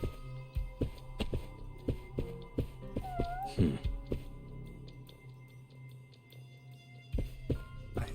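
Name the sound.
cat meowing in video game Judgment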